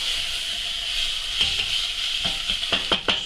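Sausages sizzling in a pan as flour is stirred in for toad in the hole gravy, a steady bright hiss of frying with a few louder scraping stirs toward the end, close and alone.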